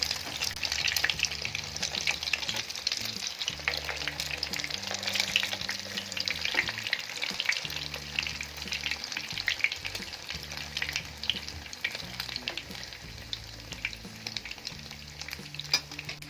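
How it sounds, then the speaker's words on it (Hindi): Beef shami kebabs frying in oil, a steady dense sizzle and crackle that runs the whole time at a close, even level, with no talking. "इसी तरह हम सबको फ्राई करते हैं।"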